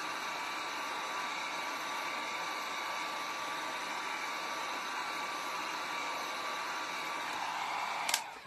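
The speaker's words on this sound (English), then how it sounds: "So let's dry this again." A hair dryer blows in a steady, continuous rushing hum, then cuts off abruptly at the end.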